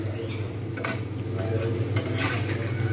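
Urad dal fritters (rosbora) deep-frying in hot oil give a steady, moderately loud bubbling sizzle, broken by a few brief scrapes and clinks of a utensil in the pan, with a low steady hum underneath and no voices.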